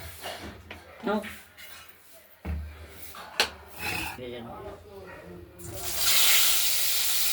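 Hot oil heats in a wok before pabda fish go in. Scraping and rubbing sounds come first under a voice, then a loud, steady hiss rises and holds through the final seconds.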